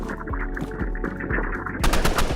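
Rapid gunfire in the Roblox game Rivals: a close, loud burst of repeated shots in a steady rhythm, ending in a sharper, louder volley, with no talk.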